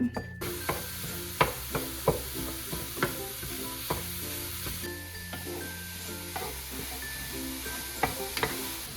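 Food browning in a frying pan for a breakfast casserole, a steady sizzle under repeated sharp clicks and scrapes of a utensil stirring against the pan, close and moderately loud, with no talking.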